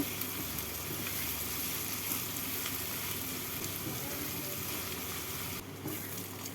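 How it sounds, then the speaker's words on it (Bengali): About a quarter kilo of chopped onions fries in spiced oil for chicken kalia, a dense, even, close sizzle that runs steadily and drops slightly near the end, with no talk. "আড়াইশো গ্রাম কুচনো পেঁয়াজ পেঁয়াজগুলোকে লাল করে ভেজে নেব"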